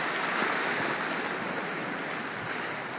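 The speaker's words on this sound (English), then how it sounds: "It's had a really good tsunami surge come in." Tsunami surge water rushes into Kahaluu Bay on Hawaii in March 2011 as a broad, steady roar of moving water, loud and unbroken, with no voices.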